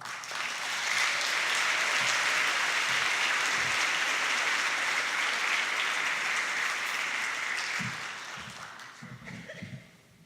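A convocation audience applauding to welcome a university president to the stage, a full room of sustained clapping that swells, holds for several seconds, then tapers off into a few stray claps.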